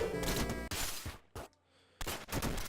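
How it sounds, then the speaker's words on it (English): A machine gun fires in the Downwell video game: dense bursts of rapid electronic shots with a brief break in the middle. "Machine gun."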